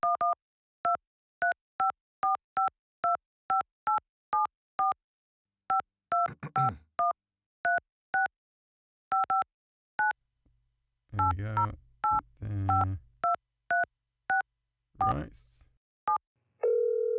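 A telephone keypad dialing an overseas number, a long run of short beeping tones in irregular bursts, broken twice by nearby voices talking, ending on a steady tone.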